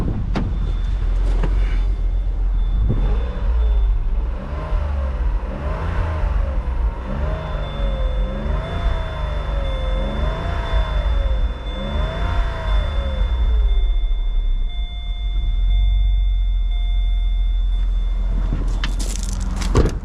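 A Vauxhall Corsa 1.0 ecoflex engine, freshly fitted with new valves, head gasket and timing chain, idles quietly with a smooth steady hum, a slight exhaust blow and a brief rev near the end.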